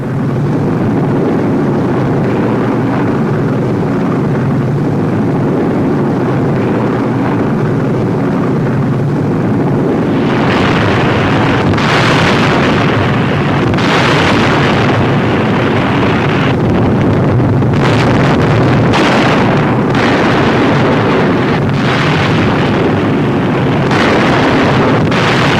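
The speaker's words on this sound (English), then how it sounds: "Remarkable pictures of the RAF bombing the Nazis in broad daylight." WWII bomber aircraft over a daylight raid on a large radio plant in Europe, a loud continuous engine roar with rumbling bursts and crackles growing denser in the second half, no voices.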